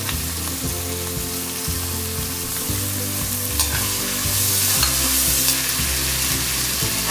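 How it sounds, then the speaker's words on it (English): Capsicum, carrot and French beans sauteing with chopped onion in a pan give a steady close sizzle, with regular scraping stirs and clinks from a spoon over a droning background tone. "Add 1 bowl of capsicum, half bowl of carrot, add half bowl of French beans,"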